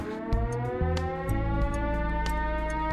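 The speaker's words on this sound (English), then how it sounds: "Sound like a fucking air raid siren" A wailing air raid siren in the game Schedule One with layered, shifting tones, loud and sustained, punctuated by a few sharp hits.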